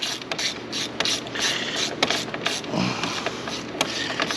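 Shocks are bolted onto a Honda 450R ATV with a ratchet, producing a quick string of clicking pawl sounds and metallic rattles, close and fairly loud.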